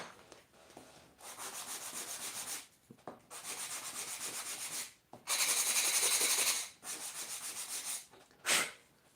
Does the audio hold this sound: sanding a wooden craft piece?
yes